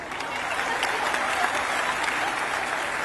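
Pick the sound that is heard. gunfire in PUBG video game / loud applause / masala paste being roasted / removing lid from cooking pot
loud applause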